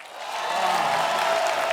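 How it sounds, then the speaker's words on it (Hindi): Studio audience applause on a comedy talk show swells into a steady, dense wash of clapping that holds loud and even throughout, with no voices over it. "अब जो आ रही हैं उनके लिए भी जोरदार तालियां।"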